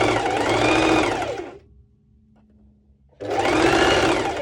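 A serger stitches elastic onto Heidi bikini bottoms in two steady whirring runs of about a second and a half each, close and loud, with a brief quiet pause between them.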